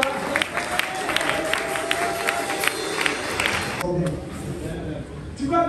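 A church congregation applauds and cheers during worship praising Jesus, a dense wash of clapping and crowd noise that drops off near the end as music continues.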